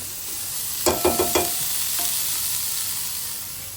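Onions frying in oil in a home kitchen, a low steady sizzle with three quick scraping stirs of a spatula near the start and one softer clink after, no talking.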